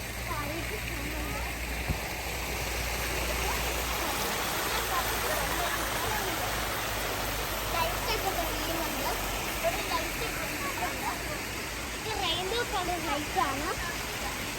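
Water flows and tumbles down a channel at Al Wadi Park in Hatta, a constant rushing splash that fills the scene while people talk nearby.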